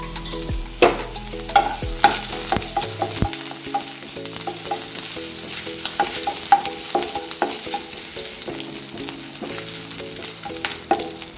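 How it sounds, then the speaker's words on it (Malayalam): Chopped ginger fries in sunflower oil with a steady, close sizzle. A spoon clinks and scrapes against the pan throughout, with a few sharper knocks and no talking. "അതിലേക്ക് നമുക്കൊരു ചെറിയ കഷ്ണം ഇഞ്ചി നുറുക്കിയിട്ട് കൊടുക്കാം"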